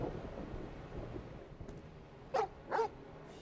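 Torgal, the wolf-dog companion in Final Fantasy XVI, gives two short barks close together near the end, standing out over a low rumbling game backdrop.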